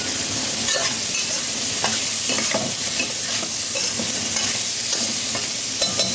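Vegetables and scallop being stirred in a hot frying pan, a steady close sizzle broken by repeated scraping and clacking strokes of the utensil against the pan, with no talking.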